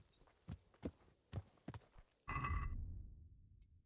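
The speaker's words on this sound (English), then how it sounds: "Mine, stop walking into my horse and making weird noises." Soft rhythmic hoof clops at close range, followed by a short snorting whinny from a horse in a video game, then quiet.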